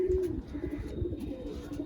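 Flying pigeons of a champion bloodline coo in their loft, low throaty calls repeating close by in a quiet indoor space, with no talk over them.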